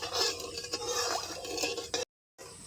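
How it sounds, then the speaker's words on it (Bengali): Sugar syrup is stirred in a pan on the stove, with soft scraping and clinking of a utensil against the pan under a gentle bubbling, then the sound briefly cuts out. "এখন আমি নেড়ে চেড়ে চিনির রসটা আমি তৈরি করে নেব।"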